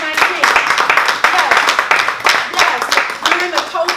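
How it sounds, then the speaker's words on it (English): An audience at an artist talk claps for a local supporter, a dense, steady burst of many hands that runs throughout, with a voice speaking over it. "Clap for your own, because he has been since 2019."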